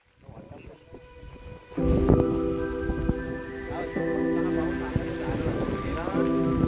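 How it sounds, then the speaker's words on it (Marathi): Monsoon rain falls at Visapur fort near Lonavala, starting faintly and then surging into a steady, dense patter of drops on surfaces that continues to the end, with faint voices and a few sharp clicks mixed in. "मस्त वाटतं पावसात."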